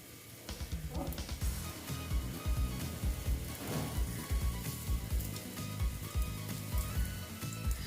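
Egg batter fritters fry in hot oil, a dense steady sizzle with bubbling crackle running close and constant, while low thumps and a faint voice sit underneath.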